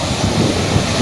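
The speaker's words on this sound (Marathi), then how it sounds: "समुद्राच्या लाटा" Sea waves at Marine Drive in Mumbai at night: a continuous broadband wash of surf with wind rumble across the microphone, steady and fairly loud for a brief moment.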